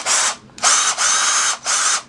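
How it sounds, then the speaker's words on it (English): A power drill tightens the nut on a cruiser skateboard truck, whirring in four loud bursts, each a fraction of a second long with brief pauses between, close up and with no talk. "I like using drills"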